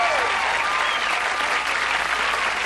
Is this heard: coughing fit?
no